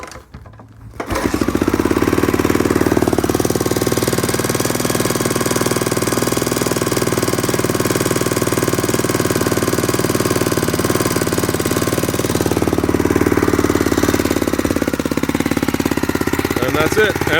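A 1988 Honda NX650 scrambler motorcycle starts on choke after a brief quiet moment. Its single-cylinder engine catches and settles into a loud, steady, rapid thumping idle that runs close by to the end.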